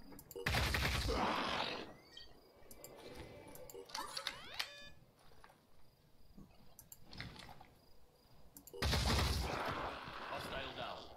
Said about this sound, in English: I'm just going to stand out in the open, and I'm going to start shooting